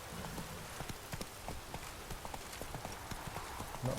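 Horse hooves clip-clop steadily in The Witcher 3, a rapid game-engine gallop rhythm heard close and continuous over a soft rain-like ambient hiss.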